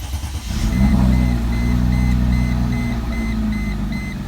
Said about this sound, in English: this cold start.